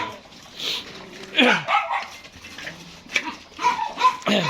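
Dogs at a dog farm in Dinajpur yip, bark and whimper at feeding time around their food bowls, several close calls scattered over a voice talking.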